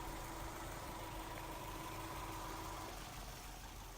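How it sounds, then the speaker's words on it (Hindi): A Honda Elevate's 1500cc i-VTEC petrol engine idles with a steady, low mechanical hum and faint whine, even and unbroken throughout. "Honda I VTEC petrol engine."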